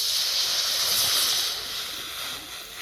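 Water heats in a pot on a lit clay stove, just starting to boil. A steady, loud hiss like steam fills the space close by, easing slightly toward the end.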